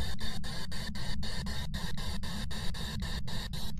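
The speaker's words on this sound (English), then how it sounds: "The EMF is making cricket noises." Rapid chirping crackle from an EMF reader in the ghost-hunting video game Phasmophobia, pulsing in short regular bursts like crickets over a steady low hum, close and continuous.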